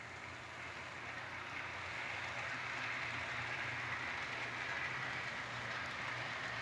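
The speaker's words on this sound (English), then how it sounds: "A nice looking Wabash PA train here." A model Wabash PA train locomotive running on DCC track, giving a steady, faint mechanical hum and whir that carries on evenly throughout.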